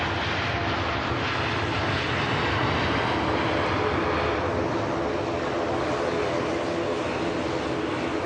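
An Air Canada airliner on its takeoff roll at Manchester Airport, a steady, loud jet engine roar that stays constant and near without breaks.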